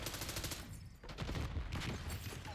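Rapid gunfire from a video game match, bursts of shots layered over a busy, loud game soundscape that swells in the second half, with no talk.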